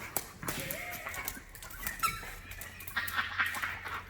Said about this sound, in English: Oh my gosh, the ball squeaks.